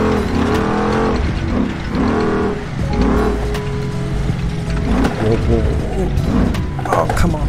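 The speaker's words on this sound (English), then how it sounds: "Man, the road is so bumpy." Car in BeamNG.drive jolting over a bumpy road, with rattling suspension and clattering mechanical knocks under a steady engine drone, and a voice talking over it.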